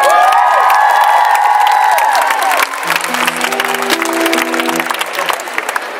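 A loud crowd at a 2013 live music gig applauds and cheers for the singer, with dense clapping, whoops and shrill shouts throughout, while sustained musical tones ring underneath the ovation.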